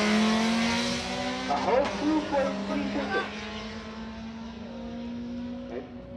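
Honda cars lined up for drag racing at Killarney in Cape Town, one engine holding a steady, droning idle-to-rev tone that slowly climbs in pitch while someone speaks briefly over it.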